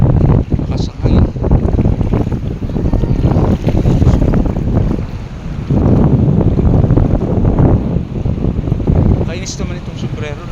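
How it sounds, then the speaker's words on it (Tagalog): Strong wind buffets the microphone in a continuous, roaring rumble with gusty surges throughout, and a few faint higher noises break through. "Lakas ang hangin."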